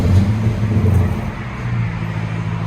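A 2008 Chrysler 300C with a 5.7L HEMI V8 and Magnaflow Magnapack dual exhaust runs with a deep, steady exhaust rumble, swelling briefly early on before settling into a continuous close drone.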